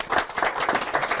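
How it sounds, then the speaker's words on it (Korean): A small audience at a live book-talk broadcast claps for the three MCs, a brief patter of close, quick hand claps. "오늘 수고하신 그 세 분 MC분들 박수 부탁드리겠습니다"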